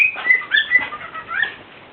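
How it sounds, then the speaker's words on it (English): Pet cockatoos at a farmhouse outside Medellin give shrill whistling calls and chirps, several overlapping phrases close by, fading toward the end. "And you can hear the birds, my cockatoos."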